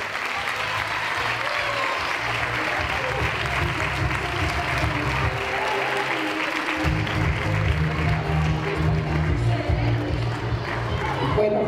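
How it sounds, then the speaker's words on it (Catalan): An audience applauds schoolchildren after a fifth-grade primary school theatre play, sustained clapping mixed with crowd murmur and a low hum of voices underneath. "un aplaudiment per tots xiquets"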